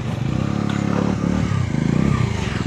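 Off-road motorcycle engine revving steadily and loudly up close, with a rough throbbing drone and some clatter throughout, and no voices.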